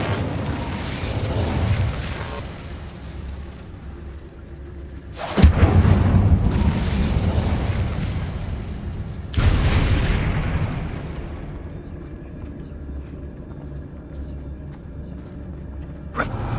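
An Incendio fire spell explodes in a PS5 video game, two heavy booming blasts several seconds apart, each with a rumbling roar that slowly fades, loud and close with no voices.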